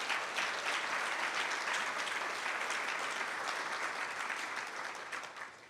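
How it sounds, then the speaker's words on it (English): Sustained audience applause for the Lithia Springs High School Choir at a county State of the County address, a dense, even roar of many clapping hands that fades slightly toward the end. "let's give them another round of applause"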